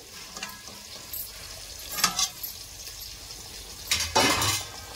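Onions fry in a pan with a soft, continuous sizzle, broken by a few louder bursts of stirring and scraping against the cookware.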